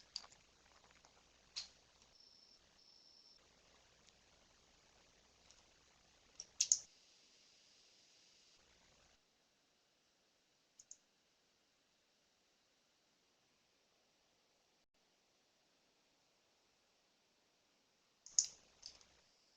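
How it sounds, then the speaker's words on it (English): A participant types on a computer keyboard during an online meeting, giving a few short bursts of light, fairly faint clicks with long silent gaps between them and no talking over it. "We do have a participant that's typing."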